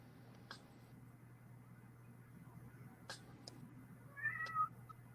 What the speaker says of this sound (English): Somebody's got a cat.